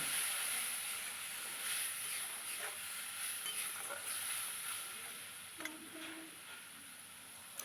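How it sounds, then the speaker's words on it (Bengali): Ground cumin, coriander, turmeric and chilli fry with a little water in a pan for taro curry, making a faint, steady hiss and sizzle with a few soft stirring scrapes. "এবার একটু জল দিয়ে কষিয়ে নেব।"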